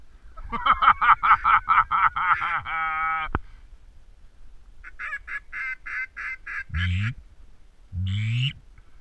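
Synthetic-sounding duck quacks from a video game in quick repeated bursts, then a pause and more quack series with two low honking calls, loud and close, no speech.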